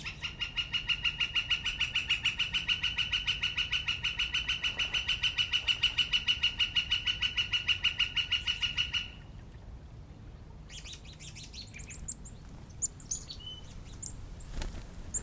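Backyard birds in Alberta, heard first as a rapid, steady repeating song for about nine seconds, then scattered chirps and calls over a quiet outdoor background.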